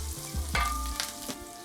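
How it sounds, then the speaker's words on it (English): Sage leaves fry in a pan, a close, steady sizzle with a couple of brief stirring clatters on top and no talking. "If you guys have never had fried sage, ooh, you're in for a treat. So we're just gonna fry this up a little bit."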